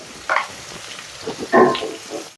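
Vegetables, including sliced cucumber, fry with salt in a pan, giving a soft steady sizzle broken by a few louder bursts of stirring and spitting oil.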